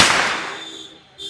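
A firecracker bursts during Diwali with a loud close crack, and the hissing blast tail fades over about a second.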